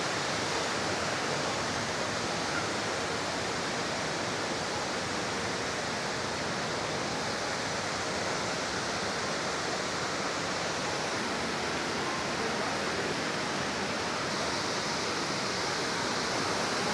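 The large main waterfall near Luang Prabang roars in a dense, unbroken rush of white water. The sound is steady and loud throughout, with no voices standing out.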